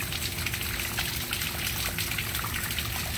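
Water gushing and trickling beside a house foundation near a fallen fence, a steady close wash of flowing water with scattered drips, no voices.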